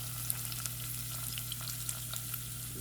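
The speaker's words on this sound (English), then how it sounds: "we're gonna fry it up" Efo Riro vegetable mix sizzles in a hot pan, a steady crackling fry with small pops and an even hiss over a low constant hum, no talking.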